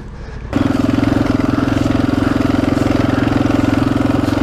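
Yamaha Tenere 700 adventure motorcycle on a steep off-road trail, its engine suddenly opened up into a loud, close, steady pulsing throb that holds without letting off.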